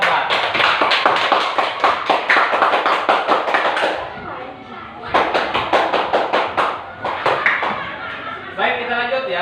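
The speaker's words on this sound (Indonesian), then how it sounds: "Tepuk tangan untuk kelompok 4." A classroom of students claps for a presenting group, a dense burst of many hands that fades, swells again, and tapers off.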